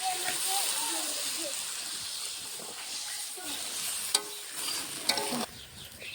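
Fried potatoes cooked in spiced masala in a Bengali kitchen hiss and sizzle steadily at close range, with a few clinks and a spoon stirring the pan.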